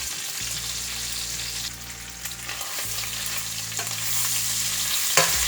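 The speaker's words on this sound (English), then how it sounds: "We still need to cook that bacon more." Bacon and chorizo sizzle and fry in a pan, a steady close crackling hiss that runs throughout with faint stirring, and a low hum lies under it.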